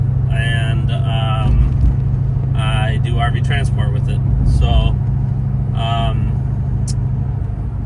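A 2019 Ford F-350 4-door long bed with a tuned 6.7 Powerstroke diesel, heard from inside as a steady low engine and road drone under someone talking.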